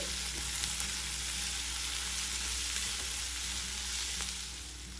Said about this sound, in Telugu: ఈ మసాలాలన్నీ కూడా ఒకసారి ఇలా తిప్పుకుని వేగనివ్వండి